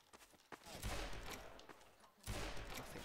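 Gunfire in the video game Garry's Mod, with bursts of rapid shots close by that come in two loud clusters between quieter, scattered shots and background game noise.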